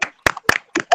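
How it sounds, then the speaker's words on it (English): A few scattered bursts of clapping from participants in an online community townhall, each short and uneven, separated by brief silences and sounding thin, as if coming through computer microphones. "Thank you for clapping for me."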